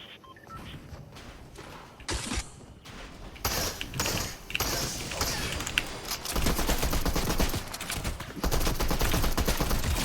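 Combat AR bursts fire in video game gameplay, rapid clustered shots that come in bursts, growing denser and louder in the second half, with game sounds mixed in.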